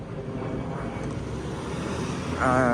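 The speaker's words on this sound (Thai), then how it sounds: "ทุกคน เวลาผมถ่ายเนี่ยเครื่องบินมาจริงเลย" An airplane flies overhead as a steady broad roar with wind buffeting the microphone, swelling a little louder near the end, with no talking.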